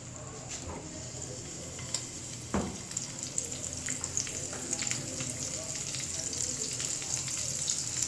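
Finely chopped curry leaves tempering in two tablespoons of hot oil for khaman dhokla make a continuous close sizzle with scattered pops and crackles, plus a dull thump of a utensil partway through.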